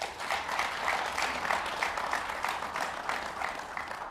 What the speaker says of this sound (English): I'm afraid if you keep getting applause forever, I might not get through all my questions